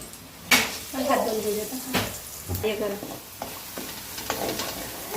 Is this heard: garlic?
yes